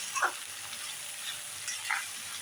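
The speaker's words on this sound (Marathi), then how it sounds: "गॅस मोठा ठेवलेला आहे आता या भाज्या सर्व आपण परतून घ्यायचं आहे" Vegetables stir-fry over a high gas flame for idli chilli, a faint, steady sizzle broken by two brief scraping strokes of the spatula, with no one speaking.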